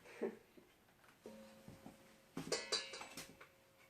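Lemon pound cake batter scraped from a mixer bowl into a cake pan, a few soft scrapes and light clinks of utensil on metal, with faint voices and a brief tone in the background.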